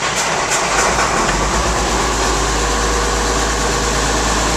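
A rebuilt tractor diesel engine runs loud and close in a steady, heavy rumble that continues unbroken throughout, with a deep low drone and no voices.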